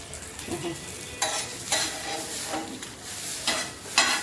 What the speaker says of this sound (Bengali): যাদের মাছ ভাজা খেতে ইচ্ছা করবে তারা এইভাবে মাছ ভেজে নেবেন